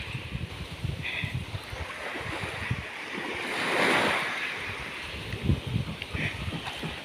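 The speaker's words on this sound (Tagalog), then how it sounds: "Yan ang mga hampas ng alon sa dalampasigan." Waves wash onto a beach at Cambalo, Cajidiocan, Sibuyan with a rushing surge that swells and fades, mixed with gusty wind buffeting the microphone.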